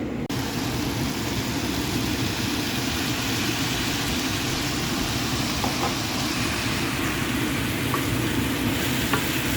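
Shrimp and egg noodles stir frying in a pan, a loud steady sizzle that keeps going without a break and has faint scraping now and then.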